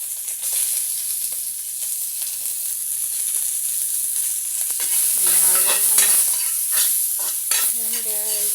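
Beef sizzles and fries steadily in a karahay wok over a wood fire, a loud continuous hiss with stirring scrapes, and a voice breaks in briefly near the end.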